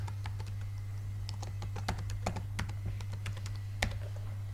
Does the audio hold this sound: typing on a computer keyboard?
yes